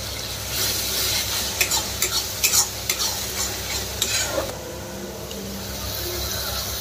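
Tomato puree fries in a pan while a spoon stirs it. Scraping strokes and clacks come in quick bursts over a constant sizzle, then the stirring stops and only the frying hiss remains.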